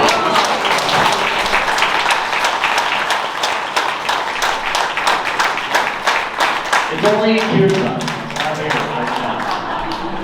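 Spiritual gathering audience claps hands in a rapid, rhythmic pattern, steady and fairly loud, while someone talks over the clapping in the latter part.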